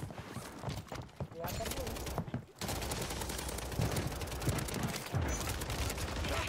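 Gunfire rings out in the video game Call of Duty Warzone 3, with bursts and single shots scattered through the clip under a steady bed of game noise and someone talking.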